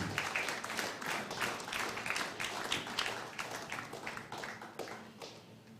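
An audience at a world 8-ball pool championship men's final gives the referee a warm round of applause, a steady mass of clapping that tapers off toward the end.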